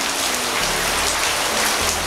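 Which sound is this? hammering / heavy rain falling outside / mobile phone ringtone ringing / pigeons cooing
heavy rain falling outside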